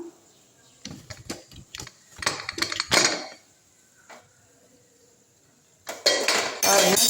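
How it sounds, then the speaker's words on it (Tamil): Pressure cooker lid being opened once the pressure has been released, giving a cluster of close metallic clanks and rattles, then a pause, then a louder burst of clattering and hiss-like noise at the end. "இப்போ குக்கரில் ஏர் போயிடுச்சு திறந்து பார்த்துடலாம்"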